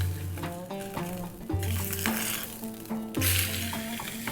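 A ribeye steak sizzles steadily in a hot pan, a continuous crackling fry with music playing over it throughout.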